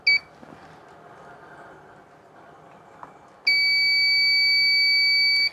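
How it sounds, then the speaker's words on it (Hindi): A driver anti-sleep eye-blink sensor device sounds its buzzer alarm: a brief shrill beep at the start, then after a quiet stretch a loud continuous piercing tone that holds to the end, close and steady. "तो जब भी ऐसे बजर बजता है तो ड्राइवर्स अलर्ट हो जाते हैं"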